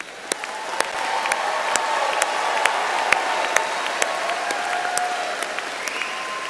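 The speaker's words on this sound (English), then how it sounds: "There'll be a lot of applauding for you tonight, so just stand back and enjoy it." A large crowd at a Texas State University commencement applauds the graduating class, a steady wash of clapping in a big hall with scattered sharper claps standing out, sustained throughout.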